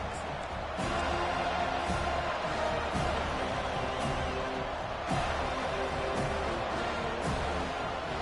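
A stadium crowd cheering in a Madden American football video game, a steady, dense roar of noise sustained throughout with a commentator voice faintly underneath.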